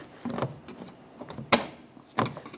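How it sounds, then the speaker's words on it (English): The outside door handle of a 2007-2017 Jeep Patriot is pulled and the latch lets go: soft handling scrapes lead up to a sharp metallic click, then a second clunk follows shortly after, close and fairly loud. "I'm going to pull on the outside door handle and it should release."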